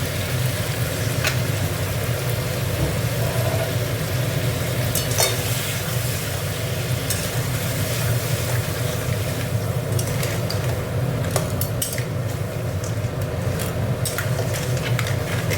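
Crab curry simmering and sizzling in a pot after water is added, a loud, dense, continuous bubbling hiss with low rumble and occasional faint clicks of stirring, close up with no voices.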